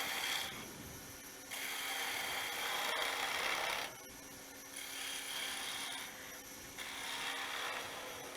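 Top of a wooden Christmas ornament being cut, with a raspy, rubbing cut that runs in several sustained bursts separated by brief pauses, close and moderately loud, no talking.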